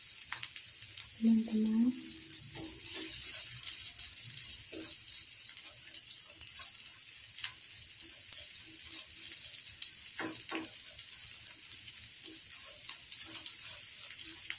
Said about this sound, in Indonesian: Kita tumis sampai kecoklatan ya